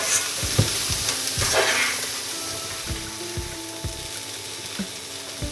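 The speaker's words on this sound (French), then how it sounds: "Je mélange." Spiced stuffing of mango powder, garam masala and fresh coriander being stirred in a pan for Indian stuffed parathas, with scraping taps and light sizzling, no talk.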